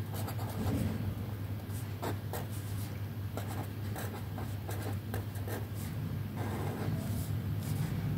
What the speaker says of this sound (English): Now I'm writing average.